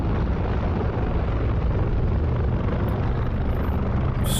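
Helicopter engine and rotor in the DCS flight simulator, with throttle being raised, give a loud, continuous, dense roar that holds steady throughout without any talking.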